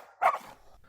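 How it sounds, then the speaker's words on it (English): A dog gives one short, muffled bark followed by a faint trailing sound, quiet and a little distant, as a sound effect within a narrated story. "But the owner set his dogs on John to chase him away"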